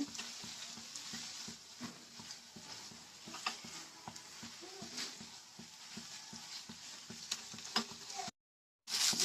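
Banana flower and taki fish bharta cooks in a pan in a rural kitchen. It gives off a soft, steady sizzle with repeated scraping stir strokes, then a brief silence near the end.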